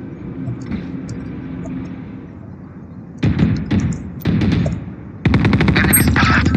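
Automatic turret fire in the tactical shooter Valorant comes in rapid, loud bursts, three stretches of fast repeated shots that grow denser toward the end, close and dominant over a quieter game background.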